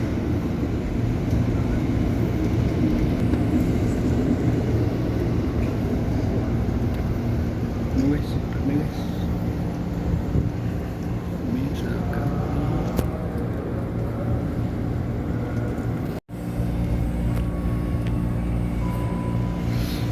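Inside a KRL commuter train heading to Sudirman station, a steady low rumble of the moving carriage with faint scattered rattles and a brief dropout near the end.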